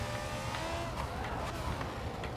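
A race car in the Forza Motorsport 7 video game drives hard, its engine a steady droning roar with brief rising bursts as it nears braking, heard alone at moderate level.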